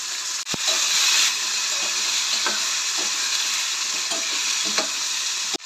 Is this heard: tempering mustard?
yes